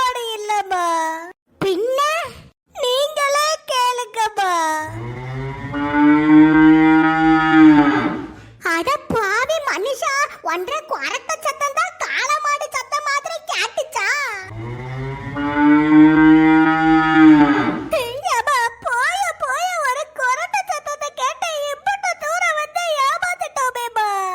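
Cartoon cow mooing in two long, loud drawn-out moos, each lasting about three seconds, separated and surrounded by lively animated character voices talking.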